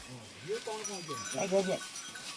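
Goats bleat inside a village goat shed in the evening, several wavering, nasal cries overlapping at close range over a low background murmur.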